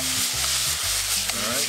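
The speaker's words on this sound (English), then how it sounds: "You want to brown that a little so you get some of that sweetness, that nuttiness." Peppers and onions browning in a hot pan for meatloaf give a steady, close sizzle, with brief scraping and stirring noises over the crackle.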